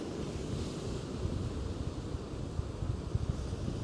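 Wind on a Northumberland beach during a beach fishing session, a continuous low buffeting rumble with gusty microphone noise and a faint wash of surf behind it, with no talking.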